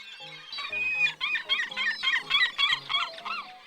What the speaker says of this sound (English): Seagull, high-pitched, laughing call.